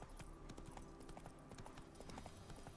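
Horse hooves in The Witcher clop in a fast, rhythmic galloping beat, close and steady throughout, with light game ambience beneath.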